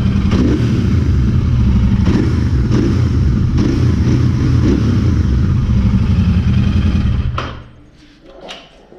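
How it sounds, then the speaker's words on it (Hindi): A Royal Enfield 650 motorcycle with a stock exhaust idles with a deep, steady thumping rumble, then cuts off near the end, followed by a couple of light clatters. "मैं तुम्हें दिखाता हूँ एग्जॉस्ट नोट। स्टॉक एग्जॉस्ट है मेरे पास"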